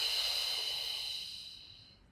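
A long, steady exhaled breath during a Pilates core exercise, a close, airy hiss that slowly fades out over about two seconds.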